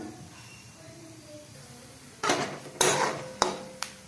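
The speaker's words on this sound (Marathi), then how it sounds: "खोबऱ्याची काप आपली भाजत आहे." Coconut slices roasting in a pan, faint quiet sizzle at first, then several loud clattering stirs and scrapes of a utensil against the pan toward the end.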